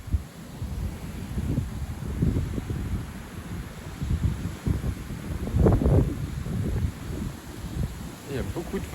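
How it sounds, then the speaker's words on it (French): Strong wind buffeting the microphone in rumbling gusts that rise and fall, with a voice partly heard underneath. "Il y a beaucoup de vent là quand même."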